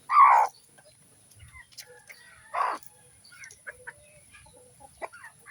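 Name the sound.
mother hen with chicks clucking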